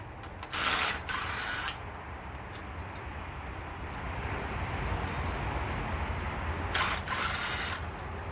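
Ratchet clicking on engine mount bolts of a B20B block during teardown, two short loud bursts near the start and end with a steady low hum between them.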